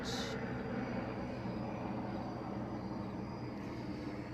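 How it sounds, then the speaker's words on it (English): A steady, low engine drone of a helicopter passing overhead fills the background, fairly faint and unchanging throughout. "So helicopter flying overhead."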